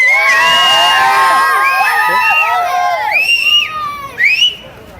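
A large election crowd in Gurramkonda shouts, whoops and whistles together in loud, overlapping cheers that ebb slightly, then surge again in a final burst.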